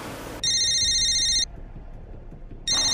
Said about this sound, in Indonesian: Bentar ya, aku ada telepon.